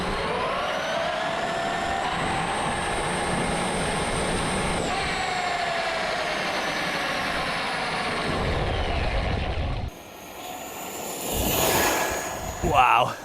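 A $5000 RC truck runs fast under power with a sustained high-pitched electric motor whine that rises and falls in pitch, followed by a short gap and then a faster, whooshing pass near the end.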